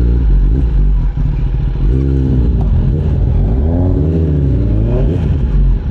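A Kawasaki ZX10R motorcycle on a ride with a 200 rear tire fitted, its engine loud and close with a low rumble, revving up and down in rising and falling sweeps over constant wind and road noise.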